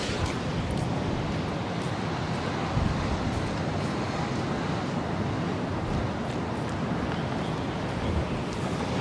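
Strong wind at a Pacific beach buffets the microphone in a steady, loud roaring rumble, with occasional gusts throughout.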